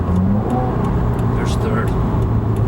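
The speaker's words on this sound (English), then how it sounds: "let's try 2 downshifts." A 2016 Subaru WRX engine revs and drops through a heel-toe downshift, a steady mid-pitched drone inside the car with a voice talking over it.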